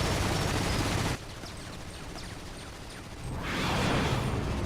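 Gunfire in the Final Fantasy VII: Ever Crisis video game, a loud dense volley of shots that cuts off abruptly, followed by quieter scattered mechanical clicks and a swelling whooshing burst.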